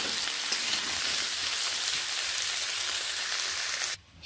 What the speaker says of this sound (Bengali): নুন ও হলুদ গুঁড়োগুলো মিশিয়ে আলুগুলোকে আমি বেশ ভালো করে ভেজে নেব।